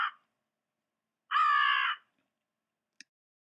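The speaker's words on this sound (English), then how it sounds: "American crow and a fish crow." Two crow calls, an American crow and a fish crow, ring out alone in quiet: a short caw at the start, then a longer, louder harsh call, with a faint click near the end.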